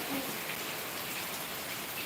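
Steady rain falls in a dense, even hiss that holds at one level throughout, with no voices.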